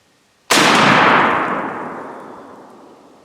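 A Mossberg 500 Tactical Turkey shotgun fires a single loud, close blast with a sharp onset and a long decaying echo afterward, with no talking.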